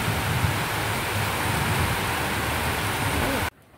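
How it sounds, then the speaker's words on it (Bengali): Heavy rain pours in a dense, steady roar close by, with no distinct thunderclap, and cuts off abruptly near the end. "দেখো কি বৃষ্টি নেমেছে, মেঘ ডাকছে, প্রচন্ড বৃষ্টি হচ্ছে।"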